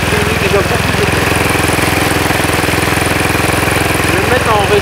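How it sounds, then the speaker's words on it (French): Electric aircraft motor driving a four-blade propeller runs steadily and loudly throughout, a continuous droning whine with a rapid buzzing pulse, up close. "J'entends pratiquement plus que le moteur."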